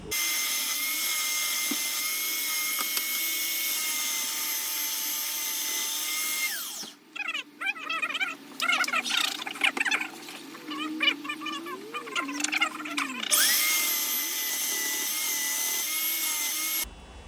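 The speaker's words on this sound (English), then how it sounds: "I'm not quite done sanding" A steady high whir of a power sander on pallet wood runs close and loud, drops out for several seconds of quieter scraping and handling, then resumes.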